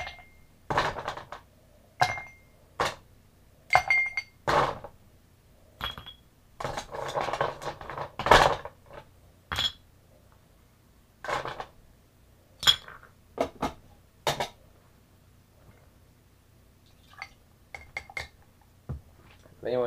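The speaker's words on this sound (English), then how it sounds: "Before you put that in there, I want to add some ice." Ice goes into a glass or shaker for a ruby sour cocktail, heard as a scattered series of sharp clinks and rattles at close range, irregular and fairly quiet, with no voices.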